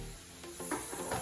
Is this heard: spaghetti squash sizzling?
yes